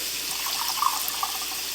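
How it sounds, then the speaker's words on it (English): Chicken stock pours into a red beans mixture for New Orleans red beans and rice, a steady close liquid pour with light splashy trickling throughout, no voices. "And after we unite them together, we're going to add some chicken stock."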